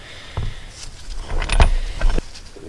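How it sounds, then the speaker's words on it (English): Differential spider gears and thrust washers are worked out of a Dana 41/44 rear axle on a Kaiser Willys jeep, giving scattered close metallic clinks and jangles, a few sharper knocks, and some rustling handling. "we're just going to walk the gears over to the side like that and pull them out"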